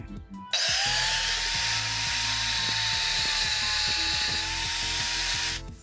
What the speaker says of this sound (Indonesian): kali ini saya memakai gerinda saja